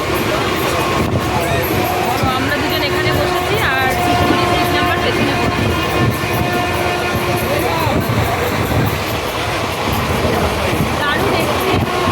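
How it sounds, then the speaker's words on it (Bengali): A stationary train at Bolpur station, about to depart, rumbles and clatters steadily nearby, with faint squeals and a distant horn-like tone, while people talk in the background. "ট্রেনটা দাঁড়িয়ে আছে তো এখনই ছেড়ে দেবে"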